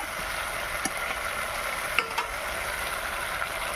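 Ridge gourd and potato sauté in spices in a pan, a constant close frying sizzle broken by occasional spatula scrapes and clicks.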